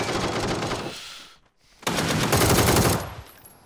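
Sustained automatic gunfire in an Xbox shooter game, two loud dense bursts separated by a short pause, close and harsh with no talking.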